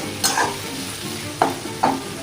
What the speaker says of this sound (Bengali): এগুলো এখন ভাজা হতে থাক, আমি এটা ঢেকে দিই, ঢাকা দিয়ে দিয়ে ভালো করে ভেজে নিই